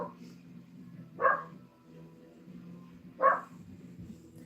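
A dog barks outside, two short barks a couple of seconds apart, moderately distant over a low background hum.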